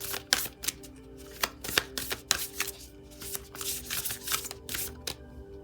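Tarot cards are shuffled in a series of close, crisp riffling bursts with short pauses between them, over a faint musical background.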